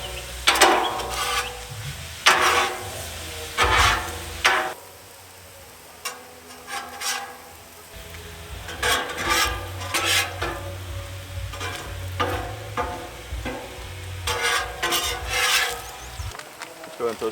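Food being stirred and mixed in a pan at a riverside campsite, with repeated scraping and rubbing strokes in irregular bursts, separated by brief quieter gaps, close up and without talk.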